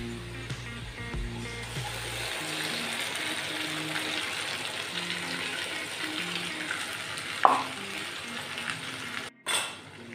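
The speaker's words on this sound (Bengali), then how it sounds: "আলুটা প্রায় আমার লাল লাল করে ভাজা হয়ে গেছে। এরপর আমি বাকি মশলাগুলো দিয়ে দেবো।" Potatoes frying in oil for a jackfruit curry as a ground spice paste goes in, a steady close sizzle with a low hum at the start, a brief clatter near the end and a short drop in sound.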